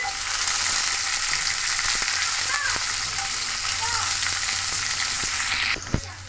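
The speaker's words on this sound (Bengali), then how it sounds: "বিন ভাজা হয়ে গেলে এবার দিয়ে দেবো এতে" Chopped beans fry in a pan for dalia khichuri, giving a loud, steady sizzle that runs unbroken throughout, with a faint clatter near the end.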